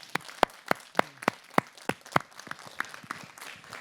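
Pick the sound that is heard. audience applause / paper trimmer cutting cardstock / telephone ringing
audience applause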